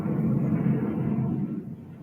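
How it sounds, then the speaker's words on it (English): An airplane flies overhead near an Air Force base, a low steady rumble that holds for a couple of seconds and then begins to fade, moderately loud and heard alone without talk. "That sound you're hearing is a airplane."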